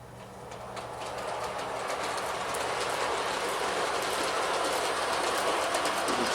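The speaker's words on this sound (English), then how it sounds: "you can see the train going around tripping the different track contacts" An LGB model train rolls steadily around its track, passing over track contacts with a continuous close rumble and faint rhythmic clicking that holds at an even level throughout.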